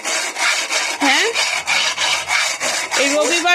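A blackened wok being scrubbed by hand produces loud, close, rhythmic rasping strokes, repeating about three times a second, with a few squeaky scrapes.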